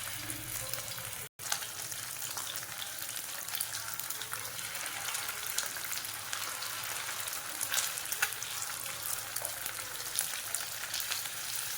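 Eggs fry in a little oil on a dosa tawa for an egg curry, giving a steady, close crackling sizzle that holds without a break, apart from one brief dropout near the start, with no voices.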